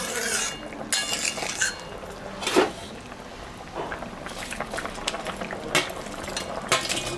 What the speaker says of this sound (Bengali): ঝোলটা ফুটে গেছে এখন আমি মাছটা দিব